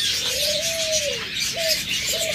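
Pet birds offered for sale, such as lovebirds, parrots, java sparrows, mynas and budgerigars, give one long cooing call followed by two shorter ones over a steady airy background hiss.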